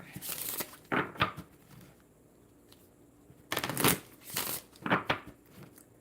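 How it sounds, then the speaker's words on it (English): Playing cards being shuffled by hand, several quick riffling bursts with short pauses between, close and fairly loud, with no talking over them. "One more shuffle."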